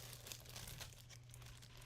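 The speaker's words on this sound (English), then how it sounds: "I take a plastic bag, a little Ziploc bag" A small plastic Ziploc bag crinkles softly and steadily up close, a faint continuous rustle with a low hum underneath.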